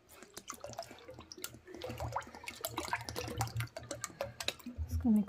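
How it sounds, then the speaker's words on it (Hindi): Lassi poured into thick rabdi in a home kitchen, a close, soft liquid splashing and gurgling that builds and thickens toward the end, with scattered drips and taps throughout. "इसमें हम डालेंगे लस्सी"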